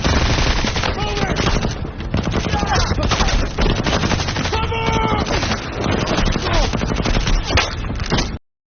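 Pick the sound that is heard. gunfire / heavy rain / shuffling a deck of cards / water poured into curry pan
gunfire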